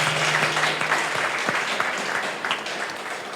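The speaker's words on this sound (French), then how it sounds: "Mesdames et messieurs, veuillez applaudir Miaz." Audience applauding a participant at a French-language debate event, a dense steady round of clapping from a crowd that holds throughout and tapers slightly at the end.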